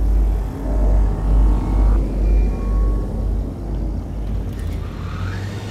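Steady, deep spaceship engine hum from the cockpit in Elite: Dangerous, swelling and ebbing in slow pulses, with faint higher whirs and a soft whoosh drifting over the low drone, no voices.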